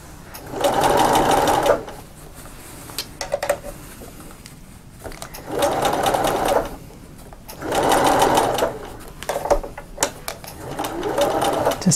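A sewing machine stitches a small fabric toy mouse in bursts of fast, steady whirring, about four runs separated by pauses filled with light handling clicks and fabric rustle.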